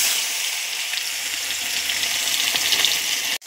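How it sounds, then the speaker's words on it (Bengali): Fish frying in oil in a pan makes a steady, close, hissing sizzle with fine crackles throughout, cut off abruptly near the end before a brief return. "ভাজা হয়ে গেছে। আমি এখন নামিয়ে নেব।"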